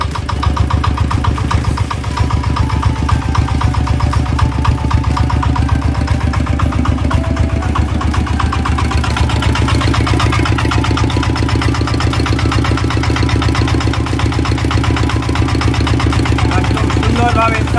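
An R180 single-cylinder diesel engine runs steadily after a head gasket replacement, a loud, even rapid knocking chug that continues throughout, with a voice briefly audible.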